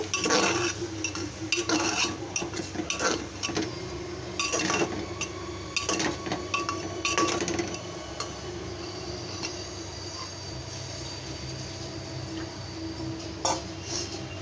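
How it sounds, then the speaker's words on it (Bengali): Broken wheat and lentils stirred in a pan, a spoon scraping and clinking against the metal in irregular strokes over steady kitchen background noise, close, with no talk. "এবার আমি ডালিয়া আর ডালটা দিয়ে দেব। দিয়ে হালকা নাড়াচাড়া করব।"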